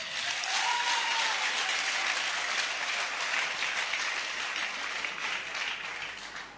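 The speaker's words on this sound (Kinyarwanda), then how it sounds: "amashyi menshi cyane" At a gathering where Jesus is praised, a crowd claps in sustained, dense applause that stays loud throughout and eases slightly at the end.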